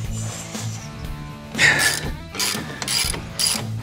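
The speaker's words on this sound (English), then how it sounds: "remove both of the 15 millimeter bolts holding the caliper on" A ratchet wrench clicks in several quick bursts while loosening the 15 mm brake caliper bolts on a Polaris RZR, close by, with short pauses between strokes.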